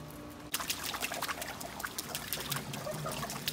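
Steady rushing and splashing ocean water fills the clip, a constant broadband wash with small gurgles, close and moderately loud.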